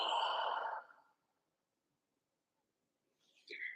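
A slow, breathy exhale during a gentle yoga flow, loud and close at first and then trailing off into silence, followed near the end by a short, faint breathy sound.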